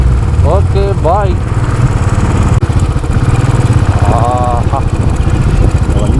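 A Royal Enfield Continental GT 535 motorcycle engine drones steadily and loud while riding, with a low rumbling pulse throughout; a voice with a rising and falling intonation talks over it in two short bursts.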